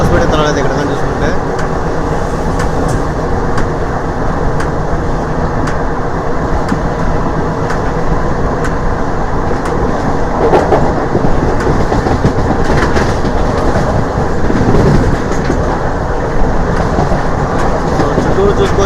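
A DEMU passenger train on the Nandyal to Tirupati line runs through Kommalapalli station without stopping, its wheels clattering over rail joints in a steady, loud, continuous rumble close by.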